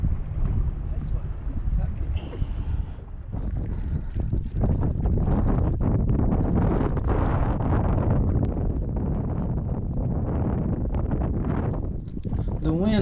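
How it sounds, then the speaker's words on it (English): Strong wind buffets the microphone without a break while bass fishing from a boat on Table Rock Lake in stormy weather. The roar is loud and rumbling, and a voice talks faintly under it. "The wind kept getting stronger and stronger."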